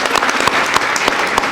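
Loud, dense audience applause at a jewellery shop lucky draw event in Pandharpur, a continuous wash of clapping from a crowd lasting the whole moment.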